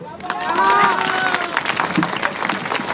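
Audience applause at a street lighting inauguration on Avenida de los Pinos, with broadband clapping and crowd noise that is loud for about the first second and then thins, along with whistles or cheers and some voices.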